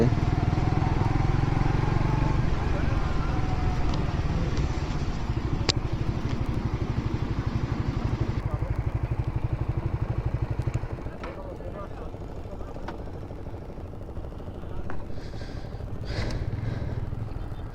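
Motorcycles ridden by bikers rumble close by, a loud engine drone that fades after several seconds into a quieter idle, with people talking over it.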